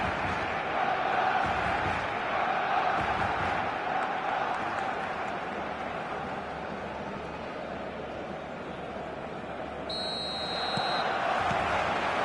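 Stadium crowd noise from an eFootball 2026 match, a steady dense roar with cheering and chanting that holds for the whole stretch, slightly easing in the middle before swelling again.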